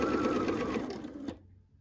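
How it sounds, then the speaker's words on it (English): Quilt pieces running through a sewing machine: a fast, even mechanical whir of stitching, close and fairly loud, that stops abruptly near the end and leaves near silence. "I'll continue sewing these together"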